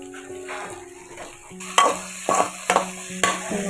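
Onion and tomato frying in a pan for avarekalu uppittu, a steady sizzle broken by several sharp scraping stirs of a spoon against the pan, close and fairly loud with no talk.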